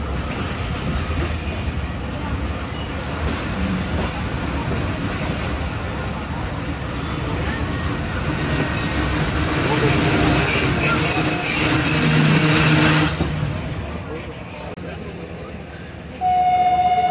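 Pak Business Express train, 34 Down from Lahore toward Karachi, rumbling loudly through a station with continuous wheel noise and squeal that swells and then drops off sharply, followed by a brief tone near the end.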